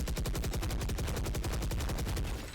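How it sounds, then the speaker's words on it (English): Rapid, loud, evenly spaced gunfire bursts from a Valorant tournament match, a fast rattling volley of shots with no voices over it. "they are running into NoodleBro, who does have that shotgun in U-Haul"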